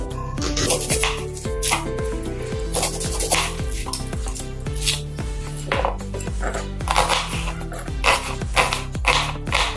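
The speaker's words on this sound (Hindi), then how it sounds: "अभी हम प्याज काटेंगे।" Steady rapid knife chops through an onion on a cutting board, a brisk rhythmic series of close, crisp taps continuing without pause.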